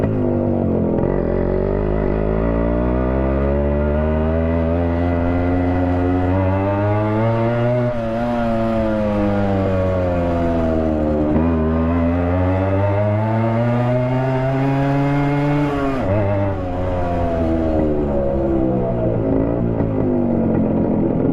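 Yamaha RX100 two-stroke motorcycle engine revving loudly and continuously near the microphone, its raspy pitch climbing and falling in long sweeps over about twenty seconds.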